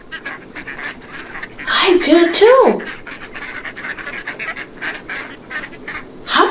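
Duck quacking, a short run of bright, rasping quacks in the middle, set among a child-oriented lesson where a voice speaks briefly nearby.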